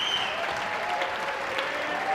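Spectators at a squash quarterfinal of the Canadian Men's Open applaud steadily after a point, a dense, even patter of clapping heard at a moderate distance, with faint voices mixed in.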